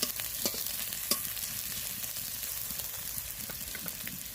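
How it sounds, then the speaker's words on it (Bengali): Finely chopped small onion fries in a pan, giving a quiet, even sizzle broken by scattered light scrapes and taps of stirring, all fairly close and alone. "পেঁয়াজটা একটু নেড়ে নিয়েই আমি দেবো"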